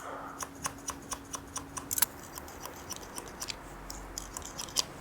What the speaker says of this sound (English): I'm just going to point cut into it a little bit just to thin it out slightly